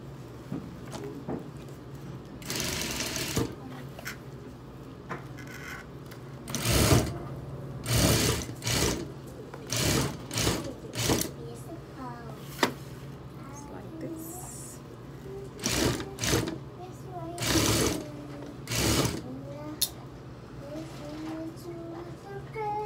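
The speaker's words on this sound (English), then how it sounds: "First, I am going to sew it all together." A sewing machine stitches a sleeve onto a shirt in a series of fast, close bursts, some short and some longer, with brief pauses between runs.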